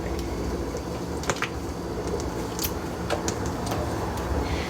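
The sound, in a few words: dish soap poured onto laundry detergent powder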